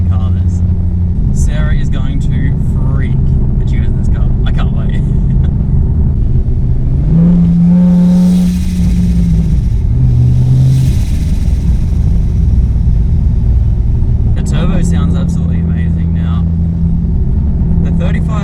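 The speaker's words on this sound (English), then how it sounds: "this turbo right here sounds infinitely better" 620 hp turbocharged Ford Falcon engine on a dyno, loud steady drone with rising revs and a couple of turbo whooshes, over continuous speech throughout.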